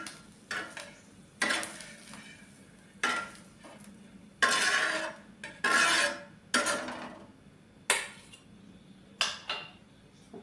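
A utensil scrapes browned fried onions from a metal pan onto a plate, making a series of short, sharp scraping and clinking strokes at irregular intervals, close by, with no talk.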